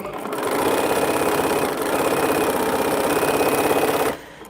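A sewing machine stitching quilt block halves together runs in one loud, steady mechanical whirr with rapid needle chatter, close by, then stops abruptly near the end.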